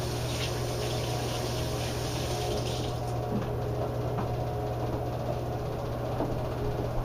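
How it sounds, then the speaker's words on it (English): Water runs steadily from a tap while hands are rinsed in a home kitchen, a continuous mid-level rush with a low hum beneath and no speech. "I want to rinse my hands quickly."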